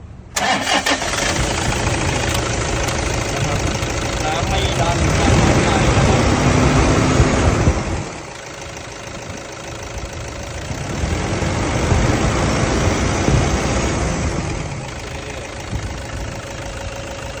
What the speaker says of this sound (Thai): เดี๋ยวเราจะสตาร์ทฟังเสียงเครื่องยนต์กันนะครับ